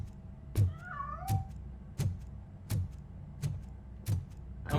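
A cat in the RoboCop: Rogue City video game gives a short meow near the start, set against a steady run of evenly spaced, heavy thuds that sound like footsteps.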